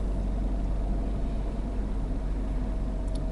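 Steady interior rumble of a Nissan Primera P10 car cruising on freshly asphalted, smooth road, a continuous low engine and road drone at even level throughout.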